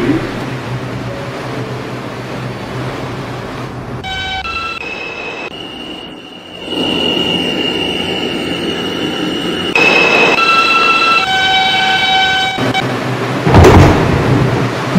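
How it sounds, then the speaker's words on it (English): A Roblox R142 New York subway train simulation runs with a loud, continuous rolling rumble and rattling, shifting through electronic motor whines and tonal hums, with a brief sharp clatter near the end. "This is a Manhattan-bound 4 train."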